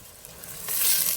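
Diced yellow potatoes hit a hot pot for seafood chowder and break into a rising sizzle, a short hiss of frying that swells over about a second, close and fairly loud with no talk.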